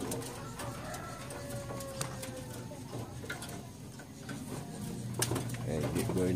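Janssen racing pigeons coo softly in a loft, low murmuring calls scattered through the clip with small clicks and shuffles, while someone talks over them.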